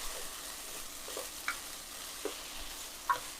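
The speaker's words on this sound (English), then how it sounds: "finally got all those mushrooms in there. We're going to go ahead and start cooking those down" Mushrooms cook down in a pan with a faint, soft sizzle, broken by a few light scrapes and clicks of stirring heard close but quiet.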